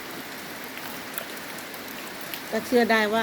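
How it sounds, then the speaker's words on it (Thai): Rain falling at one in the morning, a steady soft hiss filling the background, with a person starting to talk over it near the end. "ฝนตก"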